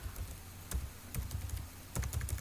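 Clusters of quick key clicks from typing on a computer keyboard, close and moderately loud over a steady background hiss, in short bursts with brief pauses, no voices.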